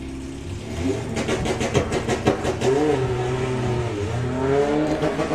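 A Volkswagen Beetle and a Passat idle and rev on a drag racing start line, mid-pitched engines blipping and droning loudly together with rising and falling revs throughout.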